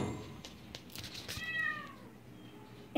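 A male kitten at an animal shelter meows a few times, a clear drawn-out call near the mic over faint room noise, followed by a sharp knock at the end.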